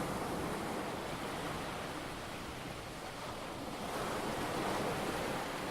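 Ocean waves wash onto the beach at Aberdeen in a continuous broad roar of surf, with slow swells in loudness and faint wind noise, steady and without voices.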